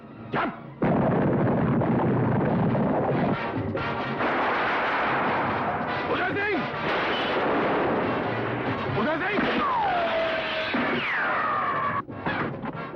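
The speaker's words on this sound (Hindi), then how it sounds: "यहां तो गोलियां मार रहे हैं।" Loud, dense bursts of gunfire and blasts fill a Hindi film attack scene continuously, with whistling tones sliding through the chaos and a brief drop near the end.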